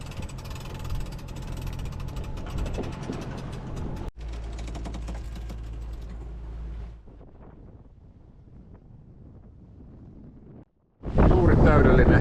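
Strong wind roars across the microphone aboard a sailing boat in a light breeze near the Scottish isles of Rum and Skye, broadband and steady, easing midway, cutting out briefly, then gusting back loud at the end.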